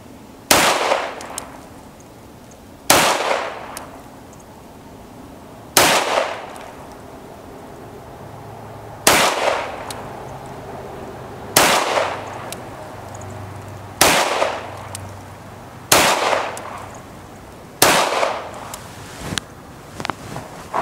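Pistol gunfire at a range, the weapon occasionally failing to eject: about nine sharp, loud single shots spaced a few seconds apart, each followed by a short ringing decay, with faint background noise between.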